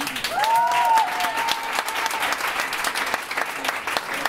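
Concert audience applauds a guitarist introduced during an alternative rock band's set, a steady wash of dense clapping throughout with a brief tonal whistle or feedback line near the start.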